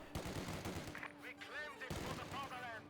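An MG42 machine gun rattles in rapid bursts during a Company of Heroes 2 battle, mixed with other scattered gunfire, while a commentator talks over the shooting.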